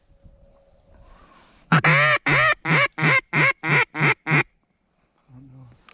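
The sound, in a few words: teal ducks quacking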